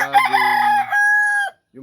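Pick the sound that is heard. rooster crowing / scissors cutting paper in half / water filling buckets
rooster crowing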